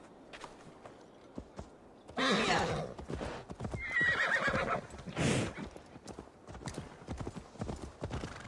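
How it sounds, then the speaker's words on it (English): Horse hooves clip-clop in the Assassin's Creed Valhalla video game, with a loud neighing whinny in the middle and a steady patter of hoofbeats before and after. "Now to deliver Magni his horse."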